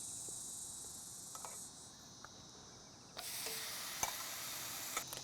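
Streaky bacon sizzling in a hot pan, a steady close hiss of frying fat that swells louder about halfway through, with a few faint clicks and pops.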